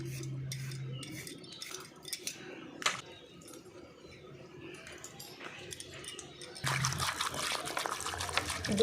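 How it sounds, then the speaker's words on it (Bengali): Peeled potatoes and carrots are rinsed in a bowl of water, with quiet dribbles and knocks at first, then a louder burst of splashing and sloshing toward the end. "দুবার জল পাল্টে পাল্টে বেশ সুন্দর করে আমি ধুয়ে নিয়েছি"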